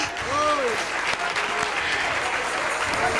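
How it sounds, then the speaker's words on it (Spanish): Congregation at an evangelical church service claps in a loose, continuous burst, with a voice briefly calling out over the clapping near the start. "Dale un aplauso a Jesús."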